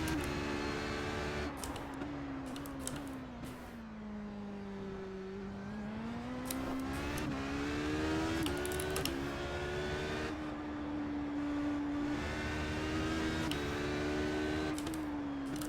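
Race car engine lapping Laguna Seca in iRacing, a steady loud drone whose pitch rises and falls through gear changes and corners, with no talk over it.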